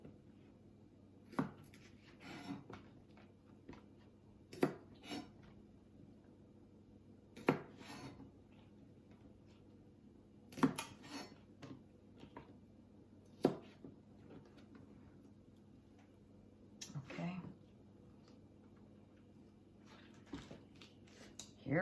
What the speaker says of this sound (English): We usually slice scallions.